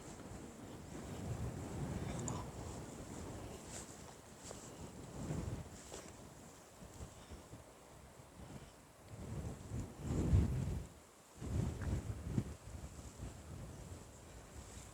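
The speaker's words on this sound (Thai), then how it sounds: "ก็ยังดีนะที่มันมีลมนี่เนาะ" Wind gusts across hot, sunlit rocks at an open riverside spot where the water has dropped, buffeting the microphone in rough, rumbling surges that rise and fade, strongest near the end.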